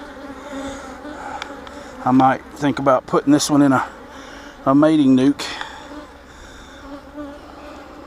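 Honeybees buzz around a brood frame lifted while pulling honey, a steady close drone running underneath a man's speech in two bursts.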